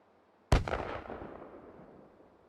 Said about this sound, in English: There you have it, the M240 mortar with suppressor